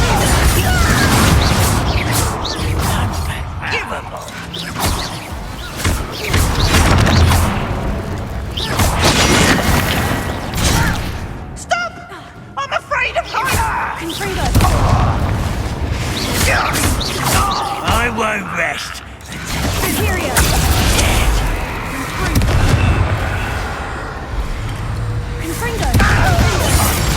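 Explosive Confringo spell blasts in the Hogwarts Legacy game, loud booming bursts and crashing impacts repeating through a dense, busy combat mix, with a voice calling out over them.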